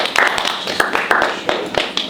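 A small workshop group claps briefly for a presenter, a sparse, uneven patter of hand claps up close with a few louder individual claps standing out.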